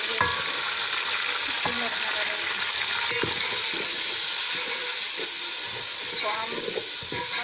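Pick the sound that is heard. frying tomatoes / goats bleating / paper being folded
frying tomatoes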